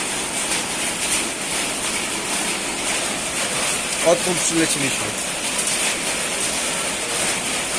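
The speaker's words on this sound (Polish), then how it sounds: "I jeszcze kurwa pada jak skurwysyn cały czas, nie?" Steady heavy rain pours down on Malaysia's Perhentian Islands, a dense continuous hiss throughout, with a person talking briefly over it partway through.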